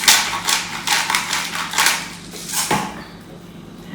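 Spoon stirring minestrone soup in a pot, a series of rhythmic scraping, knocking strokes against the metal, close and moderately loud, ending with a single sharper clack.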